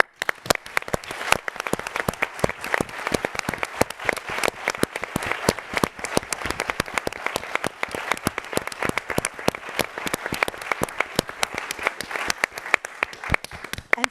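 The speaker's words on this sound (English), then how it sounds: "applause to them." Sustained audience applause at a money markets conference, dense and steady claps filling the whole stretch without letup, loud and close, with no talk over it.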